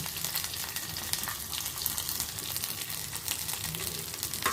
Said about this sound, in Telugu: వేయించుకుంటున్నాను.